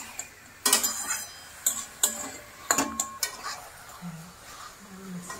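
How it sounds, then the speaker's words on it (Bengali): Marinated mutton sautés in a pan, with several sharp scrapes and clinks of a spatula against metal in irregular bursts over a low background sizzle. "এইবার এটাকে সুন্দর করে কষানো হচ্ছে।"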